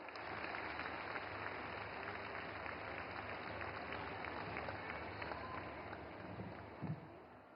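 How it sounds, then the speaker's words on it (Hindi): An audience at a government event applauds to welcome Minister Nirmala Sitharaman, a steady wash of clapping from a large crowd that holds even throughout and tapers slightly at the end. "तालियों से स्वागत करें माननीय मंत्री महोदया का।"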